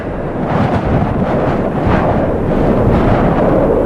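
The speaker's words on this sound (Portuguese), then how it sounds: "O vento leva os cristais de neve por sobre a terra." A blizzard's wind drives snow crystals across the ground in a steady, loud roaring rush of wind with gusting buffeting, continuous throughout.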